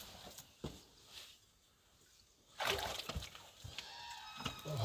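Splashing and sloshing through standing water inside a flooded concrete bunker of the Molotov Line, close and bursty after a quieter stretch, with a faint voice in places.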